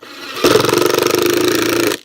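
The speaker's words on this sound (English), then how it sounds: "This is an impact drill." An impact drill drives screws into a wooden bluebird house, a loud close burst of rapid hammering clatter lasting about one and a half seconds before stopping abruptly.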